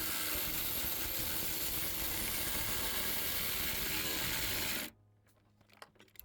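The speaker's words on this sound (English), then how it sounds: "then we're gonna put in the 13mm bolt," A ratchet tightening a 13mm battery hold-down bolt on a 2022-2026 Chevy Silverado 2500/3500 diesel, a steady close, loud clicking ratchet whir that stops abruptly near the end, leaving faint scattered clicks.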